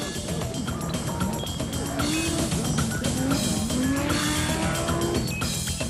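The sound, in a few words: Audi Quattro Sport rally car driving, tires squealing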